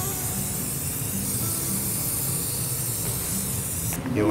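An aerosol spray can hisses steadily and at close range as paint is sprayed onto a DIY hot cocoa pot, in one long continuous burst that ends abruptly.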